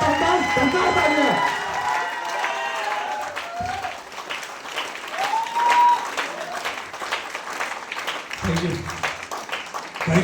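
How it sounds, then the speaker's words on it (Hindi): An audience at an SPS Agra Pearl recognition event applauds a speaker, a sustained patter of clapping mixed with voices and shouts and a tonal vocal layer on top. "दमदार ताली मेरे दोस्त के लिए, दमदार तालियां, दमदार तालियां"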